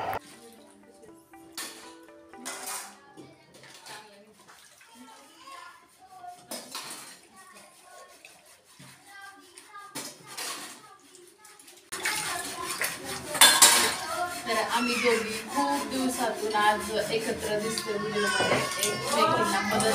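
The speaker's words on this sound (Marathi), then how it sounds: "मी दोन पाण्यात दोन पाणी घेतले भांडे धुण्यासाठी" Dishes being washed by hand in water, with scattered clinks and clatters of metal pots and utensils, turning busier and louder later, while voices talk and children make noise nearby.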